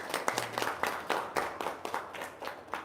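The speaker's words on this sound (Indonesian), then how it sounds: "Tepuk tangan dong." Sparse clapping from a small audience at a local gathering, with roughly a dozen separate claps spaced unevenly over a few seconds. The claps are fairly faint and there is no talk over them.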